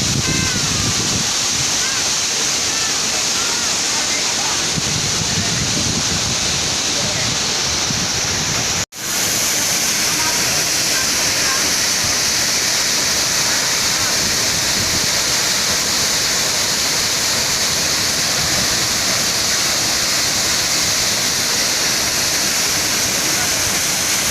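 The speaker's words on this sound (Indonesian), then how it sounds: "waterfall." Antrokan waterfall roars as a steady, loud rush of falling water filling the whole clip, with a brief dropout partway through and no clear talk over it.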